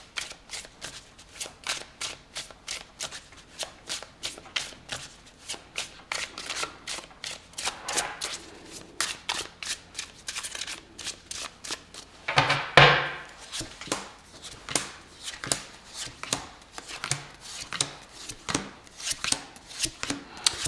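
A deck of tarot cards being shuffled by hand, a rhythmic series of crisp riffling snaps and soft slaps repeating throughout, close up, with one louder shuffle burst midway.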